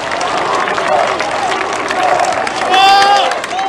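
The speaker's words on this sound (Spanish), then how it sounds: "Y lo vamos a saludar con un fuerte aplauso." An audience at the inauguration of a lithium carbonate plant in Bolivia applauds and cheers loudly and steadily, a dense crowd roar that swells near the end, with voices mixed in.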